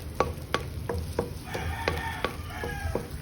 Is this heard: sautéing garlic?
yes